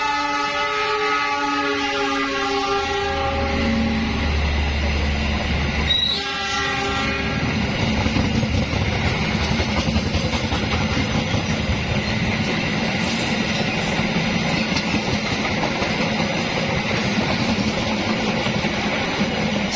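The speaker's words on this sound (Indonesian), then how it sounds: "Melintas langsung kereta api Taksaka Jogja Gambir." The Taksaka Jogja–Gambir express runs straight through an Indonesian station without stopping, sounding a long horn blast as it nears, then a loud, sustained roar of wheels and wagons rumbling past on the track, with rhythmic clatter continuing to the end.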